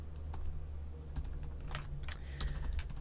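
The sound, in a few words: typing HTML code on a computer keyboard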